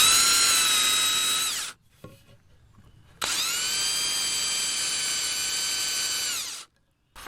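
A power drill countersinks screw holes in wood for a mudroom bench and coat rack, whining loudly and steadily in two long runs split by a short quiet pause.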